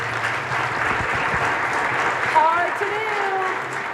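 Keynote attendees at an annual meeting clap for a volunteer, a steady round of moderate applause with a voice speaking over part of it.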